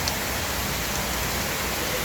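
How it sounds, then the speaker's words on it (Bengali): Rain pours steadily onto a balcony, a dense, even hiss with no gaps and no voices. "ওয়াও বৃষ্টি বৃষ্টি"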